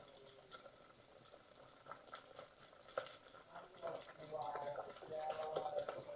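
Butter and caramel sauce bubble in a pan while a whisk scrapes and ticks through it; the soft, steady bubbling grows fuller toward the end, and a voice seems to be present.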